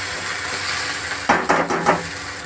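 A spoon stirs garlic, ginger and spices frying in a pan for a green banana and potato curry, giving a few quick scraping clanks over a steady sizzle.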